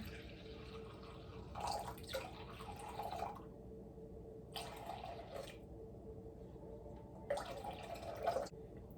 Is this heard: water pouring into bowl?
yes